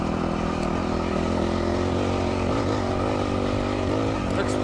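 A motorcycle engine drones loud and steady with the throttle held up as it climbs a steep trail hill, rough and close throughout with no clear pauses.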